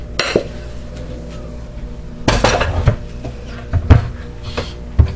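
A large ceramic bowl clatters out of a cupboard and is set down on a kitchen counter, with a few sharp knocks and clinks of dishes spread over several seconds and no talking.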